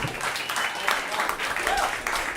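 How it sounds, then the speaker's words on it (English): Audience applause at a roast battle comedy show, steady broadband clapping from a crowd sustained for a couple of seconds with loose voices mixed in. "give them a round of applause,"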